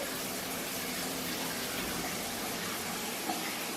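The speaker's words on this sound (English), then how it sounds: "That shower is for mommy." Steady, dense rush of shower water running in a home bathroom, a continuous broadband hiss at moderate level with no voices over it.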